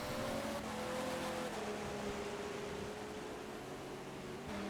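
Race cars on the Silverstone start-finish straight in an endurance racing game, with a steady loud engine drone and a single pitch line slowly falling as the cars pass, alone without talk.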